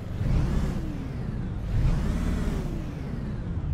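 A Dongfeng DFL 4251 truck engine in Euro Truck Simulator 2 revs steadily and loudly, rising and falling in pitch twice over a constant throaty rumble, with no voices.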